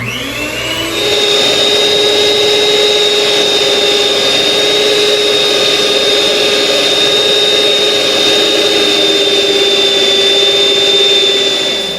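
A stand mixer runs on low speed, mixing cake batter: a loud, continuous motor whir with a steady whine that starts after a brief moment and holds evenly to the end, with no voices.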